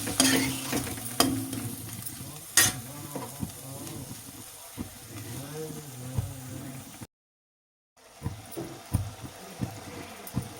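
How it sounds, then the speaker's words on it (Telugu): Ginger frying in oil for a spicy chicken liver fry, a soft crackle with stirring scrapes and a few sharp clinks, cut by a brief gap of silence before the frying resumes. "అల్లం నూనెలోనే వేయించుకోవాలండి. అప్పుడే పచ్చివాసన పోతుంది."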